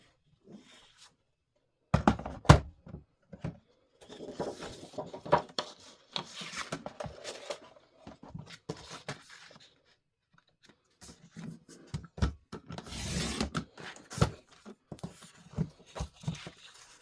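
Cardstock being trimmed from 4 by 6 to 5 by 7 for a Valentine's card: a few sharp cuts and snips, then bursts of papery sliding and rustling, with quiet gaps between.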